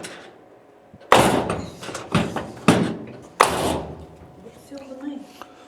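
Cab doors on a Chevrolet C10 pickup under body restoration shut with glass installed, four loud solid slams spaced about a second apart, each ringing briefly, followed by faint talk.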